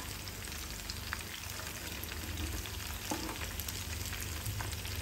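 Prawns fry in hot oil in batches over a medium-high flame, giving a continuous close sizzle and crackle with small pops and faint stirring, no talk.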